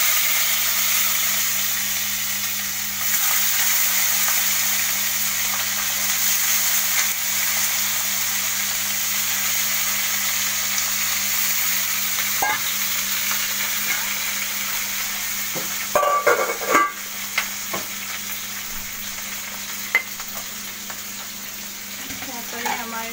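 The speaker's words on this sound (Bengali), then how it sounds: "তেল গরমই আছে, আর একটু তেল লাগবে। এগুলো ভাজবো," Chili chicken with big chunks of onion frying in hot oil in a wok, giving a steady sizzle throughout with a few clattering stirs and scrapes near the end.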